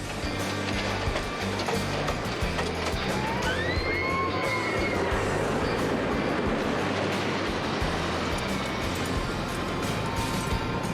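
A roller coaster train on a test run rumbling and clattering along its track at a distance, with steady mechanical rattling and a faint squeal of wheels.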